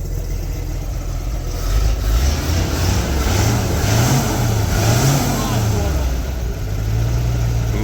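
A new replacement engine in a ZIL-130 truck runs close up, a smooth low idle that climbs and falls through a few gentle revs before settling back, with no clear talk over it.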